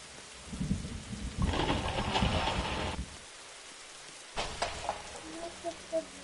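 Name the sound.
rain in video game 99 Nights in the Forest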